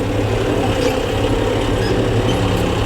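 A tractor engine idles steadily with a low, continuous rumble while its hydraulic lift is lowered and a gear is engaged, loud and close throughout with no speech.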